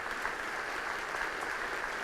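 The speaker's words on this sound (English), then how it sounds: "Give him a round of applause for that spirit." An audience at a 2018 graduation address claps in sustained, fairly faint applause heard from a distance, an even patter with no speech over it.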